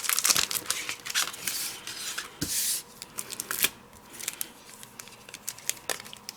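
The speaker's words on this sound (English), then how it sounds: "And now we're going to die cut the acetate." Acetate sheet being die cut with a Diamond Press die gives crisp plastic crinkles, cracks and shuffling handling noises, irregular and close up, with a few sharper snaps and quiet gaps between.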